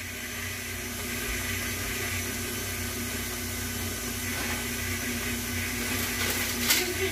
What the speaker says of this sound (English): go ahead and whisk this up on low, just to whisk it up a little bit